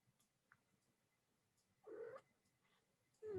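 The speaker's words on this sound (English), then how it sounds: "If you hear cooing sounds, it's my cat." A female cat in heat makes two short, soft cooing calls, separated by a pause, in an otherwise quiet indoor room.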